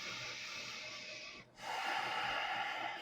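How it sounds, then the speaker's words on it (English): Slow, deep breaths during a restful bedtime yoga pose, a long soft inhale, a brief pause, then a fuller airy exhale, close and quiet. "Breathe deeply here."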